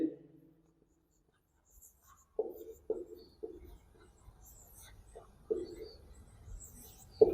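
A pen writes by hand on paper during a language lesson, giving faint, scratchy strokes in short irregular bursts separated by brief pauses.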